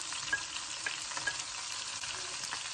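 Minced garlic and onion fry in hot oil for chicken and pork adobo, making a soft, steady sizzle with light scattered crackles and pops, fairly quiet and close.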